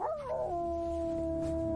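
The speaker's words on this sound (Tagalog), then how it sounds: "Nakakatakot yung alulong ng aso." A dog howls alone at night: one long, sustained, steady-pitched wail that bends slightly at the start, then holds, fairly faint against a quiet background.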